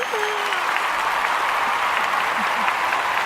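Loud, dense applause and crowd noise at a live podcast taping in a restaurant, greeting a singer, a continuous close wash of clapping with a few brief voices mixed in.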